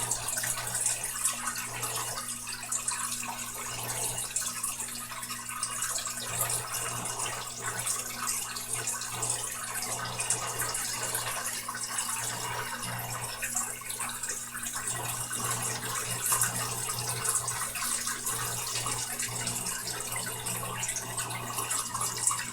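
Steady water flow runs through saltwater aquarium tubing, a continuous even wash with a faint low hum beneath, moderately quiet and unbroken throughout with no talking.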